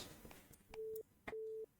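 A telephone busy signal from the horror game Tiny Bunny: two clear steady tones, each about a quarter second long, separated by a short gap, with faint clicks around them in an otherwise quiet line.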